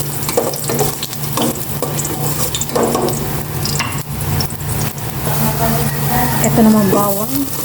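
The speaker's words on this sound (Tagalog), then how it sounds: "Magisa na po ako ng luya." Ginger sizzling and being stirred in a hot pan, a steady frying hiss with scraping stirs throughout, while a voice talks over it at times.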